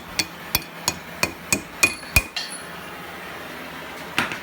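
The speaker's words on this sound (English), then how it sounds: "He's going to grab a ball peen." A ball peen hammer strikes hot steel while forging a cross peen key chain, seven sharp ringing blows in a quick even rhythm, close and clear, then a pause and one more strike.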